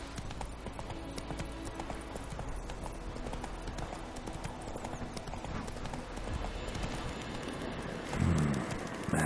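Hooves of the horse Roach galloping in The Witcher 3, a fast continuous clip-clop over a dense bed of game ambience and music, steady and prominent throughout with a louder burst near the end.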